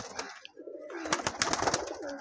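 Giribaz pigeons give a brief, close burst of soft throaty cooing, a couple of quick murmuring calls over about two seconds.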